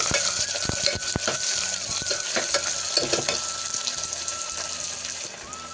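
Onions sauté in a pan with a bright, steady sizzle, punctuated by several sharp spoon knocks and scrapes close by.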